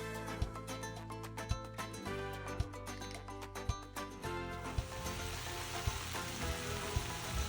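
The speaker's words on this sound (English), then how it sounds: "You'll want to cook your veggies until most of the liquid is gone, so about 10 to 12 minutes." Sliced vegetables for a fajita quesadilla cook down in a pan, giving a soft, steady sizzle with sharp intermittent clicks and ticks over a faint tonal background.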